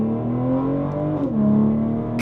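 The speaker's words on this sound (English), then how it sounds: "just gonna floor it and see how the gearbox responds" A BMW M440i xDrive Gran Coupe pulls hard at full throttle from inside the cabin, a loud steady engine drone rising in pitch, briefly dipping at a gear change before climbing again.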